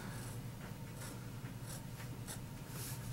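A MontBlanc 220 fountain pen with a somewhat flexible medium nib writing on paper, giving a steady close scratchy stroke sound with rhythmic pen movements and no talking.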